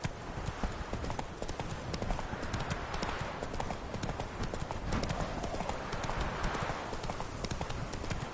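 Horse hooves gallop at a steady, fast clip-clop rhythm in The Witcher 3: Wild Hunt, loud and continuous over a broad rushing background of wind and movement.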